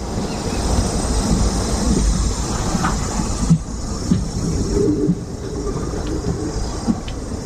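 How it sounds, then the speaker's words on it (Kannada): A train rumbles steadily along the rails near Talaguppa, loud and close, with a constant low roar and occasional faint clacks and knocks. "ನಮ್ಮ ಟ್ರೈನ್ ಹಿಂಗೆ ಹೋಗ್ತಾ ಇದೆ"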